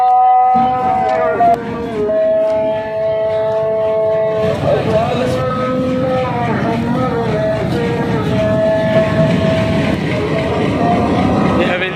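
A train standing at Haveliyan railway station, with long tonal horn-like tones and a steady bustle of station noise throughout, while people talk nearby.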